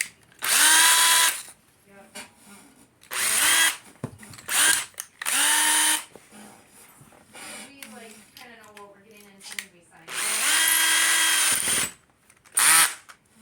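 A power drill spinning an arrow shaft whirs in several short bursts, spinning up and stopping repeatedly, with quieter gaps and faint rubbing between them.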